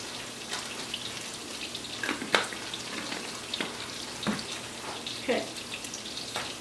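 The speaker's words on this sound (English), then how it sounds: "let me season a little bit more of these pork chops and we'll get them started in the oil" Seasoned pork chops fry in hot oil, giving a steady close sizzle with scattered sharp pops and crackles.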